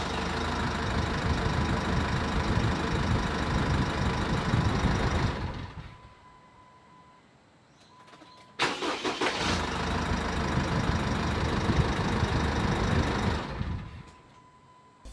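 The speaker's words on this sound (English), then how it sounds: "when we're starting the vehicle up, it's really kicking into gear and spinning away" Jeep Wrangler engine cranks and catches into a loud, steady idle with the fan clutch spinning, then cuts off, briefly restarts and runs again before shutting down, close and without talk.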